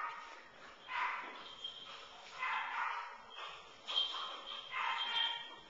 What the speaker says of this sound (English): these two puppies are ready to go at it, and they're having a good time already